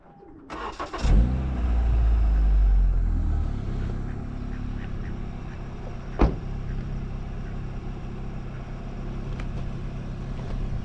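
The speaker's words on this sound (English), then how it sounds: "I'm gonna start it up and show you guys the height that it's driven at." A Honda Civic Si with full bolt-on modifications cranks and fires up, settling into a loud, steady idle close by with a brief sharp blip midway, no talking.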